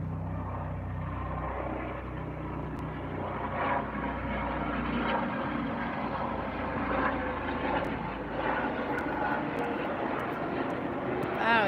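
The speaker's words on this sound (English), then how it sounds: "Oh, there is a helicopter." A helicopter drones steadily overhead, a loud continuous engine rumble with faint chopping that fills the whole stretch.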